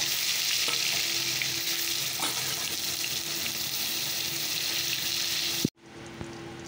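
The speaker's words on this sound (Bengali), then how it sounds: "তেলটা গরম হয়ে গেছে, চলো পটলগুলো ছেড়ে দিই। পটলগুলোকে ভেজে নামিয়ে নেব।" Pointed gourd (potol) pieces fry in hot oil with a loud, dense, close sizzle and stirring for several seconds, then the sound cuts off abruptly to near quiet.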